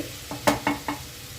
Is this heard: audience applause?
no